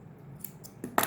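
Scissors snip through knitting yarn after binding off a loom-knit beanie, giving a couple of quick close crisp cuts, the last one loudest, with no talking.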